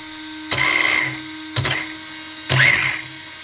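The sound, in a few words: RC car brushless motor revving, over 4000 kV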